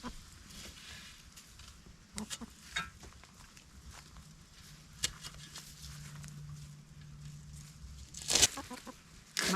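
Chickens cluck softly and intermittently outdoors, with scattered faint rustling and scratching sounds around them.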